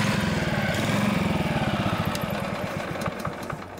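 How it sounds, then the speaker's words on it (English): A warmed-up Honda lawnmower engine with clogged carburetor jets surges unevenly, its rapid chugging pulse swelling and fading in a rhythmic hunting pattern, fairly loud and close, with no voices. "So the engine was warmed up and it was still surging."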